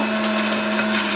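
A Breville juicer grinds kale in a steady, loud, continuous whir with a strong constant motor hum and no pauses.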